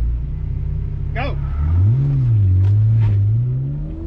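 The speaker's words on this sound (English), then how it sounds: "This 1-2 shift under load, you could feel the engine and transmission moving around." A BMW E46 330ci accelerates hard at an autocross, its engine note climbing and dipping through a 1-2 gearshift under load, loud and close throughout with a brief squeal near the start.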